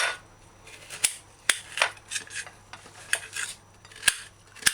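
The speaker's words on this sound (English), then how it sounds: "chop Irish potato in cubes" Knife chopping Irish potato into cubes on a board, a series of sharp irregular taps and clicks with quiet scraping between strikes, close and clear with no talk.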